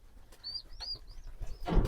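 Pigeons in a loft cooing, several soft, rising calls spaced across a quiet background, with a brief rustle or flutter at the end.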